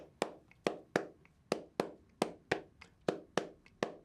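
Steady hand claps lay down a groove, about ten crisp, close claps in an even, slightly swung pulse with faint ghost taps between them, performed alone at a moderate level.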